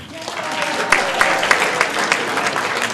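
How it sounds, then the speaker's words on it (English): A comedy-show crowd at the Kennedy Center claps loudly and enthusiastically, a dense burst of applause with a few sharper individual claps, while voices can be heard through it. "Clap if you are for spanking children."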